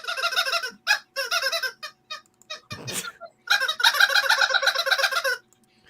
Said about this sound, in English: Every time we hear that squeak, but we don't see the chicken on camera